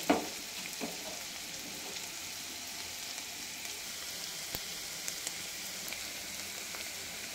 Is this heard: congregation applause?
no